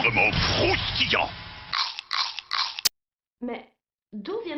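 Kellogg's Frosties cereal crunched in a 2000s French TV commercial: a voice talks over music at first, then several sharp crunchy bites come close and loud, separated by brief silences.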